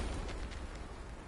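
A Confringo fire spell bursting into an explosion in Hogwarts Legacy, a dense, rumbling blast with a low roar that holds steady and fairly loud through the short moment.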